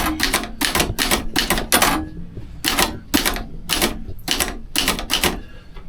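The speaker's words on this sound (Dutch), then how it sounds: "Ik heb wel een stukje getypt, want het gaat in een map." Sharp, loud keystrokes on a typewriter in quick bursts with brief pauses between runs, each strike a crisp clack close by.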